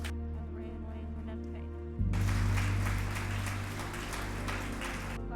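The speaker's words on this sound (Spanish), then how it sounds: "Dale un fuerte aplauso a Dios" A church congregation bursts into loud, dense applause that starts abruptly and carries on for several seconds over a sustained musical backdrop, then fades near the end.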